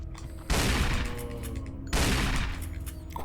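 Two heavy, booming gunshot blasts in the video game Resident Evil, each striking hard and then rolling into a long echoing decay, loud and close with no talking.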